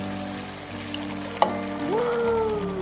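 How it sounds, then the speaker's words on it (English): Diced tomatoes go into a pot of sizzling turkey chili. A brief clatter comes first, then steady frying and stirring noise over a humming background. "Add in the diced tomatoes."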